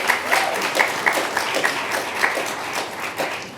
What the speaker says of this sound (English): please, you can clap for that.